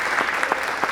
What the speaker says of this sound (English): So yeah, you can applaud.